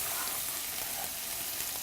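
Chopped onions fry in butter in a pan, giving a soft, steady hiss and crackle of sizzling with no voices over it.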